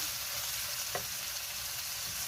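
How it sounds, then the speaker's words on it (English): Ground beef sautéing and being stirred in a pan for a casserole, a steady soft sizzle with a brief scrape or clink of a utensil near the middle. "we are just sauteing up this ground beef and mixing everything"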